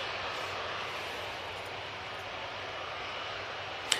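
A Qatar Airways jet holding at Manchester Airport, its engines a faint, steady broadband whine and rush at a distance, unchanging throughout, with a brief click near the end.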